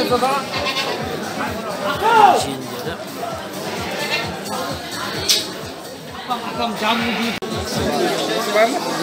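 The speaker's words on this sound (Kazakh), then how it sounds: "Осындай да жақсы альпа нубийский ешкілер." Several Alpine-Nubian goats bleat near and far amid a busy goat show, their calls overlapping with people chatting in the background.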